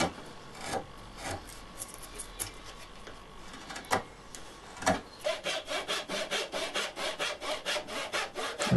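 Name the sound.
hand saw cutting pallet wood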